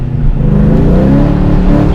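A car fitted with long-tube headers, an X-pipe and a catback exhaust revs loudly up close, a deep throaty engine note rising briefly and holding for a couple of seconds.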